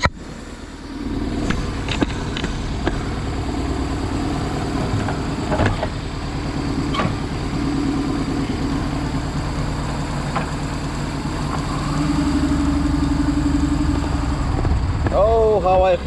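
A BMW R1100GS motorcycle idles steadily while it warms up in a workshop, a continuous low engine drone with a few sharp clicks and knocks over it, rising slightly toward the end.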